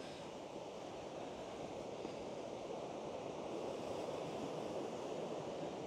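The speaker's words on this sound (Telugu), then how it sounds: "మీకు ఇక్కడ కనిపిస్తుంది అనుకుంటా వాటర్ ఫాల్." Lumsdale waterfall flows steadily in the distance, a soft, even rush of water with no voices.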